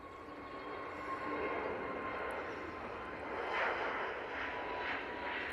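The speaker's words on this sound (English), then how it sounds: "KLM is on the roll." A KLM airliner accelerates on its takeoff roll at Manchester Airport, a steady distant jet engine roar with a faint whine, holding level throughout with no talk.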